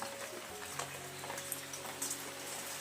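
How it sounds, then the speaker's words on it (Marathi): Heavy rain pours down steadily, a faint, even hiss with a low hum underneath and no voices. "नाही हा धो धो पाऊस पडतोय"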